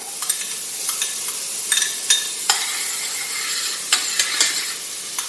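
Onions and garlic sautéing in melted butter in a pot, a soft continuous sizzle with scattered light clicks and scrapes of a stirring utensil, close and steady, no speech.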